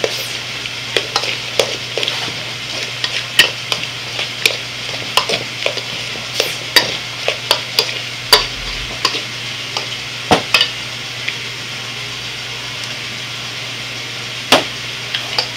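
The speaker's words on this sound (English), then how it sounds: "We're going to mix that up in the bowl." A spoon stirring lobster roll ingredients with ginger in a bowl, producing a run of quick, close clinks and scrapes in an uneven rhythm, falling off toward the end.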